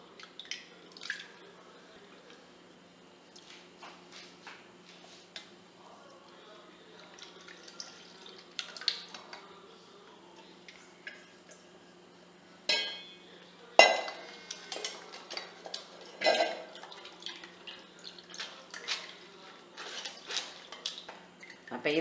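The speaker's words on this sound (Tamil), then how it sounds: "நல்லா இதை வந்து நம்ம கையை கொண்டு நல்லா பிசைஞ்சு பால் எடுத்துக்கலாம்" Hands squeeze and knead semolina soaked for four hours in water, giving wet squelches and splashing in a bowl that come in irregular bursts, close and louder toward the end.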